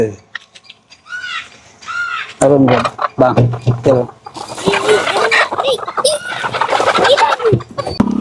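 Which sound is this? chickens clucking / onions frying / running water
chickens clucking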